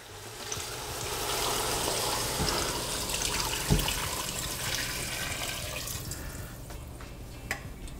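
Tap water running steadily into a cooking pot holding beef bones for noodle soup broth, a continuous close rushing stream that thins slightly toward the end, with occasional clinks and no speech.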